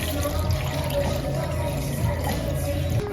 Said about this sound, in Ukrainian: Вкидаємо її в нашу ємність і заливаємо водичкою.